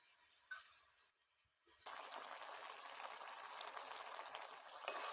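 Mustard paste goes into a simmering water lily (shapla) curry in a rural Sundarbans kitchen, setting off a steady, soft sizzling bubble that continues evenly at a faint, close level.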